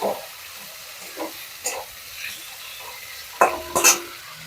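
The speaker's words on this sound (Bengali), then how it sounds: "এবার আলুর সাথে এটাকে একটু ভালো করে ভেজে নেব।" Potatoes fry with a ground paste of ginger, cumin, turmeric and coriander in a pan, a soft sizzle broken by a few light spatula scrapes and a louder clatter of stirring near the end; no talking.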